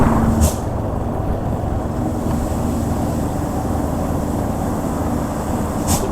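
A heavy truck rumbles past on a mountain road, steady and loud, with two short sharp hisses of air brakes near the start and end.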